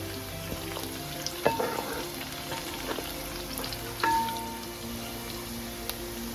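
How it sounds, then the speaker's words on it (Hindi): Onion, cumin and green chillies frying in hot oil, a steady soft crackling sizzle with occasional light utensil clicks, fairly quiet and without talk. "प्याज हल्का सा ब्राउन हो गया है। अब मैं इसके अंदर ऐड करूँगी जीरा और हरी मिर्चें।"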